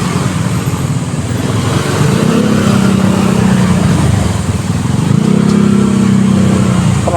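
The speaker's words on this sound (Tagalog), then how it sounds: "Traffic din pala dito." Cars and motorcycles pass along a road beside a new park in Pasig on an afternoon, a constant loud traffic roar with engines swelling and fading as vehicles go by.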